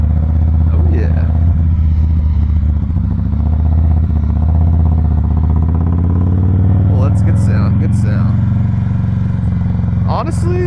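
A 2017 Harley-Davidson Softail Breakout V-twin running close and loud with a deep, steady low rumble and slight throttle changes, someone talking over it.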